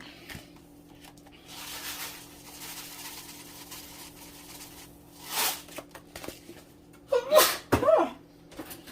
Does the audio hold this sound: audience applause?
no